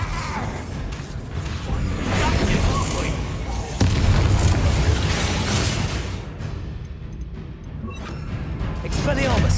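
Bombarda spell explosions in the video game Hogwarts Legacy: loud booming blasts and crashes with whooshes, one sharp burst near the middle, amid dense battle noise and voices.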